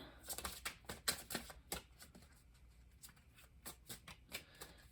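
Quiet, close cards being shuffled in quick irregular flurries of papery riffling snaps, fading to softer taps toward the end.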